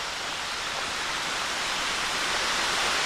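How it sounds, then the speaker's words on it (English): Water flows over and under rocks at a spot on a hiking trail, a dense, steady, close rushing hiss like a small cascade, continuous throughout with no talking. "Oh, we do have water flowing over the rocks."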